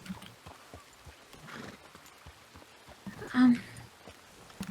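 Horse in a Wild West roleplay game, with soft hoof clip-clops and a brief whinny mixed under quiet speech.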